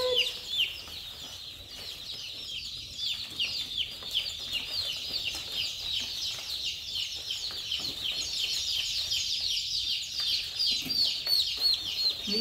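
Many baby chicks on a farm chirp constantly at close range, with a dense, high-pitched peeping that keeps going without a break.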